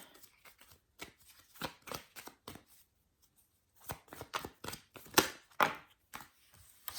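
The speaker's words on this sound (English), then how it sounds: "That was a kind of a weird shuffle." Playing cards are shuffled in bursts of quick, crisp riffling clicks, close and fairly quiet, with short pauses between rounds.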